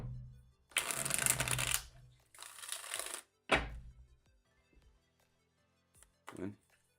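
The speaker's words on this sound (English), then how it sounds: "One more shuffle." A deck of tarot cards being shuffled in a few separate bursts, a long riffle followed by shorter ones and a sharp tap, close and fairly loud with no talking.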